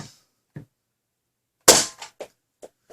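A Rhinoceros BJ.02 toy blaster fires through a chronograph with one sharp, loud snap, followed by a few fainter clicks and taps. Softer knocks come just before it.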